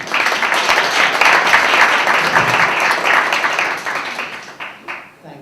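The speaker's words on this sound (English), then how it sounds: "Let us give a big applause to" A lecture audience applauds for speaker Joel Wit, a dense, loud burst of many hands clapping that holds steady, then tapers off over the last second.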